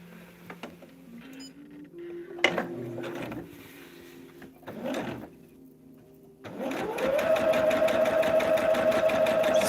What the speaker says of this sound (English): Sewing down those lines